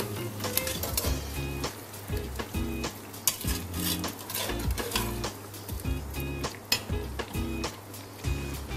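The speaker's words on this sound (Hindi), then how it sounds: "इनको अच्छे तरीके से मैं भून लूंगी।" Beef boti cubes fry with salt and black pepper in a pan, a steady close sizzle under repeated clinks and scrapes of a spoon stirring against metal, with no talking.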